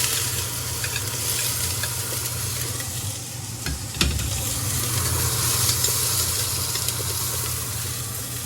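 Chopped onion, garlic and ginger frying in hot cooking oil for a creamy chicken pastel, a steady close sizzle with a stirring clatter near the middle, no talking.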